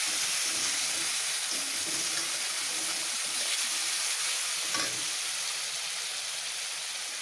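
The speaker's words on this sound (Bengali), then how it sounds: "এই দেখো, মশলাগুলো আমার খুব সুন্দর ভাজা ভাজা হচ্ছে।" Spices and red chili paste frying in oil for kangla fish curry, a steady close sizzle and hiss running unbroken, with no talking over it.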